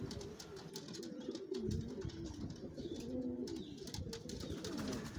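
Sport pigeons, a cock and a young hen, coo steadily in a low rolling pattern, close and continuous with no talk.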